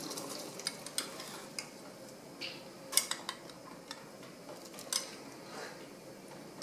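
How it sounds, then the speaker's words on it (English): A spoon stirs cornstarch into a pot of hot and sour soup, giving soft scraping and clinking against the pot with a few sharper taps over a faint simmering hiss, close by and without talk. "stir the cornstarch in"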